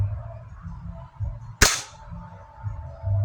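One sharp, loud gunshot fired at a target, a single crisp crack with a quick decay, heard over a low steady outdoor background.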